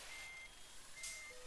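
A truck's reversing alarm sounds in a truck-driving video game: two steady electronic beeps, evenly spaced, over a low engine hum.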